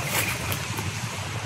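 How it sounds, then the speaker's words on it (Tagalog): Strong wind as the sky darkens before rain, heard as a loud, broad roaring rush that gusts unevenly throughout, close to the microphone and with no talking. "Lakas pa yung hangin."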